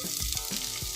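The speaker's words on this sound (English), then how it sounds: "Yeah, you can hear a little sizzling sound." Sliced shallot sizzles in a hot pan, a soft, steady frying crackle with a few faint stirring bumps, close and quiet, with no talking.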